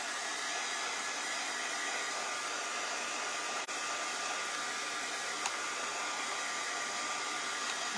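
A hair dryer runs steadily and loudly to dry fresh paint on a wooden spindle heart craft piece, a continuous even blowing roar with no talking over it.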